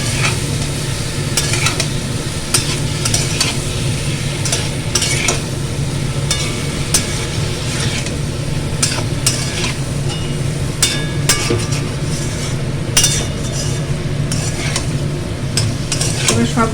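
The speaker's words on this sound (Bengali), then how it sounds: "এবার এগুলোকে একসাথে মিক্স করছি মশলার সাথে, পোস্তর সাথে," Banana and potato turned together with poppy-seed spice paste in a pan, a steady close sizzle with scattered scraping and clicking strokes of the spoon running throughout, no one talking.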